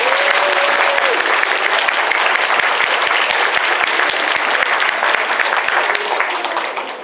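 A large audience at an elementary school end-of-year awards ceremony claps steadily and loudly for several seconds, the applause tapering slightly toward the end.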